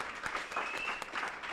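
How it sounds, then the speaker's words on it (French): Audience applause welcoming Sonia at a gathering, a brief, faint patter of scattered clapping heard from some distance. "viens Sonia, qu'on applaudit très fort"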